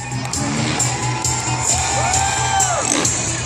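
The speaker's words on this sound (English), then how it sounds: "They must really like the noise that this crowd generates." Crowd at a BMX King action sports show at the North Carolina State Fair cheers and shouts in a steady, loud roar for over three seconds, with a brief rising whistle-like tone partway through.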